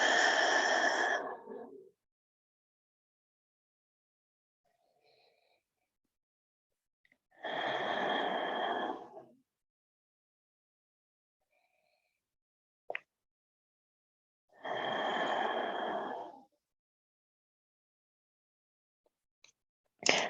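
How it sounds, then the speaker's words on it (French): Three slow, deep breaths during a calm yoga stretch, each a long, soft exhale several seconds apart, with near silence and a few faint clicks between them. "On a 3 dernières respirations ici."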